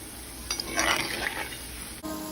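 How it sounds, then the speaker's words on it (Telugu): Gulab jamun balls frying in hot oil as they are gently rotated, a soft close sizzle with light stirring swishes, briefly swelling in the middle and then settling to a quiet fry. "ఇలా మనం పైన ఇలా రొటేట్ చేస్తూ ఫ్రై చేయాలి"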